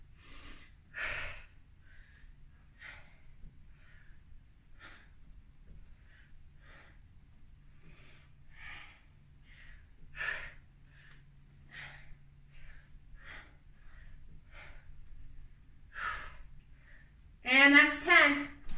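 Breathing in and out during a side plank workout with arm lifts, soft rhythmic breaths and short exhalations, close and quiet, ending in a louder breathy burst.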